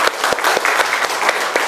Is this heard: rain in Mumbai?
no